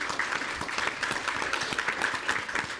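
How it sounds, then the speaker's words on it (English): Audience applause welcoming panelists onto a stage, steady dense clapping from many hands that stays even throughout with no voices over it. "So let's put our hands together and help me welcome our panelists."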